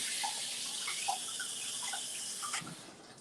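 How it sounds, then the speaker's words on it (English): Hands rinsed under a running kitchen tap, a soft, steady stream of water with faint splashes and drips, quiet and close, ending with a small clatter near the end. "Just gonna rinse my hands."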